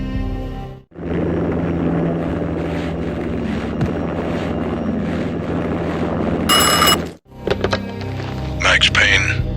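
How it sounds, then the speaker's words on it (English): An armed helicopter lands on manor grounds in the video game Max Payne, a heavy steady rotor and engine roar close and loud, broken by brief cuts and a burst of sharper noise near the end. "An armed helicopter just landed on the manor grounds."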